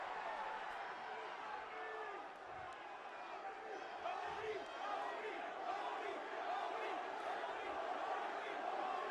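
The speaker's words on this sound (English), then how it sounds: "Crowd erupts." Wrestling arena crowd roaring in a dense, continuous wall of cheering and shouting that swells toward the end, heard distantly and fairly quietly.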